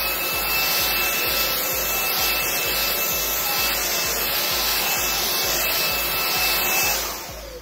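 Xiaomi Dreame V10 cordless stick vacuum running at max power over a carpet, a loud steady whooshing roar with a high whine and rhythmic brushroll thumps, close up, fading slightly at the end.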